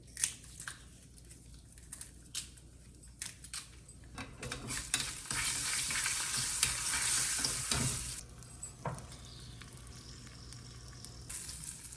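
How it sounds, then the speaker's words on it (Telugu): Fenugreek seeds, mustard seeds and dried red chillies spluttering in hot oil for a tender tamarind pickle, a steady close sizzle that swells loud in the middle with scattered pops and the clink of a stirring spoon, no talking. "మెంతులు వేగుతున్నాయి ఆవాలు ఒక స్పూన్ ఈ ఎండుమిరపకాయ కూడా వేగితే ఎర్రగా బాగుంటుంది"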